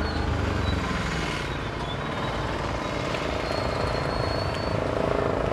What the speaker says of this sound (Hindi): बगल में एयरपोर्ट है, हेलीकॉप्टर का आवाज़ आ रहा है